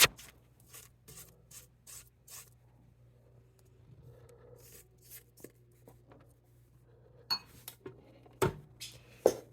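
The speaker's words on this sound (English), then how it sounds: "So, I'm going to give it a little bowl scrape" A spatula scrapes chocolate chip cookie dough around a mixing bowl in short, soft scraping strokes, quiet at first and then a few sharper knocks and scrapes near the end.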